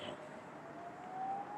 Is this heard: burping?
no